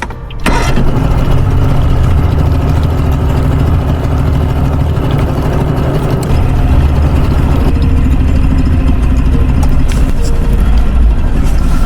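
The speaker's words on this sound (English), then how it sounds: "being that it's a two-stroke carbureted motor" A two-stroke carbureted motor on an adventure rig catches and keeps running, with a loud, steady engine drone close by that lasts the whole stretch, and no talking.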